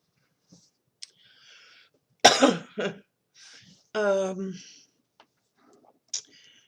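One person alone at close range gives a sharp cough, a throat-clearing rasp and a short voiced hack, separated by small clicks and near silence.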